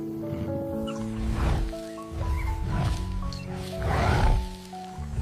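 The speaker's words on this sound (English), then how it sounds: "Below, the lion prowls and growls, but cannot reach." A lion prowls and growls in grassland, giving low, rough growls in three swelling bursts beneath sustained dramatic music tones.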